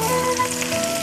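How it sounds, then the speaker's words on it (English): Vegetables tossed into hot oil in a pot on a cooker sizzle and crackle steadily, a loud close frying hiss with no talk. "we still have our hot oil here in the pot, and we're going to put all our vegetables in here"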